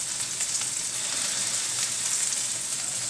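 A steak sizzling in a hot pan as its fat cooks out, a loud, even, hissing crackle that holds steady without pause, heard up close with no voices.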